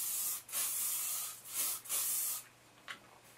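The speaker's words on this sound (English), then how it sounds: "give us a good spray of hairspray." Several hissing bursts of hairspray sprayed from a can onto hair held upside down, a few longer sprays followed by a short final puff, close and fairly loud.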